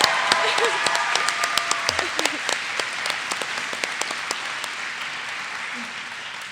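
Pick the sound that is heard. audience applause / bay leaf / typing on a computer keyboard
audience applause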